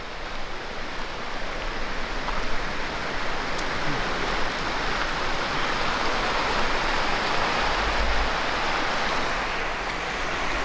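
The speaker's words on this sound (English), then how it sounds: "we're right on the little creek or stream" A small creek flows beside a campsite in cold northern Georgia, making a steady, close, unbroken rushing wash that continues evenly throughout with no voices.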